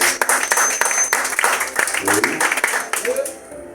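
A church congregation applauding and cheering for the king, with dense clapping and shouts rising together and tapering off near the end while voices carry over the crowd.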